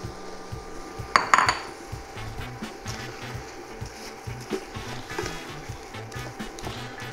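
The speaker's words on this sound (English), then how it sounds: "I'm gonna stir it around to get coated in the flavor of those vegetables" A spoon stirs long grain white rice with vegetables in a pot, making a quick burst of clinks and scrapes against the metal followed by softer, scattered stirring, close and fairly quiet.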